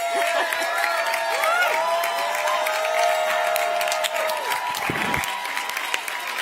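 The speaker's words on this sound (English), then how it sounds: "applause to all of us" A large crowd at a Kamala Harris event applauds and cheers continuously, loud dense clapping with whoops and raised voices mixed in throughout.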